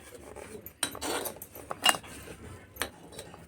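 A spoon mixes lemon pickle in a dish with close, faint metallic clinks and scrapes, coming in several irregular bursts against a quiet background.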